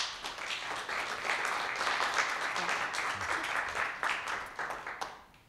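Audience applause welcoming a moderator at a live program, a steady mass of clapping that swells and holds for several seconds before tapering off, fairly loud and continuous without distinct individual claps.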